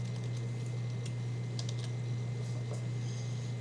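Soft key presses on a computer keyboard, a few scattered light clicks in quick bursts, faint and close over a steady low electrical hum, with no talking.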